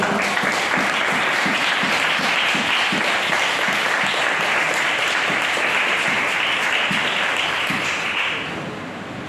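A church congregation claps for God during worship, a dense sustained wash of applause lasting about eight seconds before fading down.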